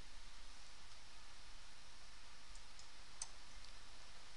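A single computer mouse click lands once near the three-second mark, faint and sharp against a low steady hiss, with no talking.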